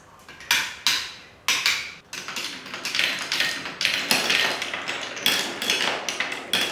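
Marbles launched through a wooden Quadrilla coding marble run, clacking against blocks in a series of sharp taps and knocks, then a dense patter of rolling rattles, close and fairly loud.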